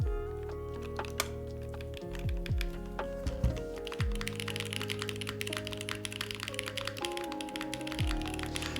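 Typing on a Duo M prototype mechanical keyboard filled with polyfill, a steady run of close, crisp key clacks that grows denser partway through, with low tones and deep thuds underneath.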